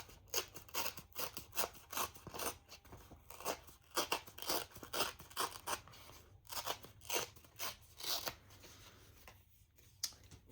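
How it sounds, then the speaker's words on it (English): A sheet of paper, apparently planner paper, being handled and torn or cut by hand in a rapid series of crisp rustling rips over about ten seconds, close and fairly loud with no talking. "we're going to tear this"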